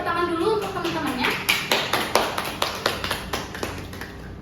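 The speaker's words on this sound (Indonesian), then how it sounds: "Boleh beri tepuk tangan dulu untuk teman-temannya." Classmates in a high school biology class clap after a group presentation, the rhythmic claps growing steadier and louder after a brief voice at the start.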